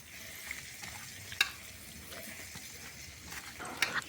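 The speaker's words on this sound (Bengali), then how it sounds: "আর অল্প একটু সর্ষের তেল দিয়ে ভালো করে টমেটোর সাথে সবগুলো মেখে নেব" Hand-mixing mashed tomatoes with mustard oil for a village-style vorta: soft, wet squelching and stirring runs steadily throughout at close range, broken by a few brief sharper clicks.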